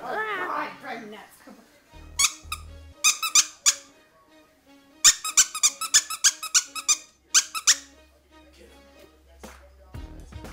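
A dog chews a purple hot dog squeaky toy indoors, producing sharp squeaks in rapid irregular bursts. A voice talks briefly at the start.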